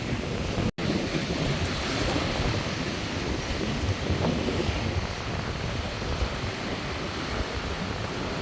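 Rough, stormy sea pounds the Point Pedro coast, with a constant roar of crashing surf and gusty wind buffeting the microphone. A brief dropout comes near the start, and no one speaks.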